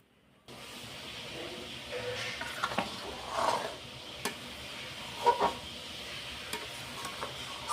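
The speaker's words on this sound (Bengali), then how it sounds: "কড়াইশুঁটিটা দিয়ে দিলাম, যা ছিটবে এবার।" Green peas spluttering in hot oil in a wok, seasoned with black cumin seeds: a steady soft hiss with scattered sharp pops and crackles, fairly close and moderately loud, no talking.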